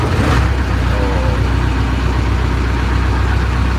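A diesel engine cranks and catches, then settles into a loud, steady low idle with a rough, knocking rumble throughout, heard close up with no talking.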